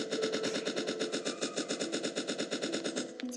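Rapid automatic gunfire aimed at dinosaurs in a survival video game, a fast steady stream of loud close shots for about three seconds before cutting off.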